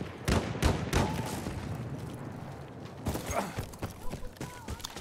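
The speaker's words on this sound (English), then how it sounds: "Just one shot at that one. My shotgun." Shotgun blasts in the WW1 shooter Battlefield 1: a few heavy booms near the start, then further shots and mechanical clatter later, set against steady battlefield noise.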